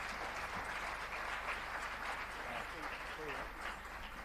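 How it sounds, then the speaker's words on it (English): Audience applause for a chef at a gastronomy tourism forum in Africa, a sustained crowd clapping in a conference hall with some voices and murmuring mixed in. "Just some more applause, please, for the chef."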